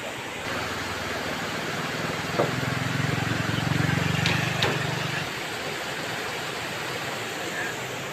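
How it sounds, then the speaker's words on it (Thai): A waterfall pours beside a steel arch bridge with a wooden deck at Tham Bon falls in Ubon Ratchathani, a steady broad rush of water, with a low engine hum swelling through the middle. "ด้านข้างมีน้ำตกไหล"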